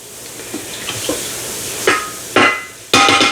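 Jasmine rice being stirred in an Instant Pot on the saute setting, with a few soft scrapes early on and then three louder, sharper scraping strokes toward the end, close up with no talking.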